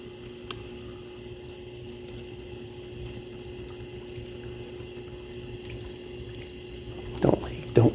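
A KitchenAid dishwasher, model KDTM354DSS4, running a rinse cycle after a leak repair: a steady low pump hum and water rushing, ending with a few louder knocks and clunks.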